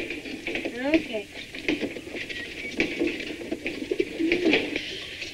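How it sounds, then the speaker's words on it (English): Squab pigeons kept for meat breeding coo softly in short repeated calls close by, mixed with light rustling and background voices. "These birds are squab pigeons."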